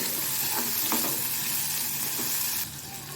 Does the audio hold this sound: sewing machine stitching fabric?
no